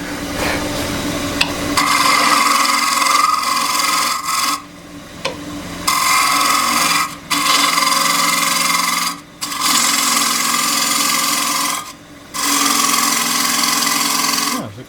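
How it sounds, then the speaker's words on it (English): A square end scraper cuts a square wooden plate spinning on a lathe. It makes a steady, loud, close rasping hiss broken by several short pauses as the tool lifts away, with no voices. "I'm going to go in with a square end scraper this time."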